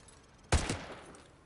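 A single sharp gunshot cracks out in Modern Warfare 2 Remastered, a loud burst with a short rumbling tail and a faint second report just after, set against quiet game ambience.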